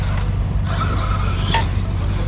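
An Arrma Outcast 8S fifth-scale RC car runs at half throttle outdoors, giving a continuous close motor and drivetrain rumble with a faint whine rising briefly, steady for a couple of seconds.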